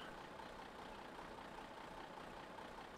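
An old tractor engine in Farm Simulator 2013 runs at a steady idle-like drone, low and muffled, constant for a few seconds with no talking.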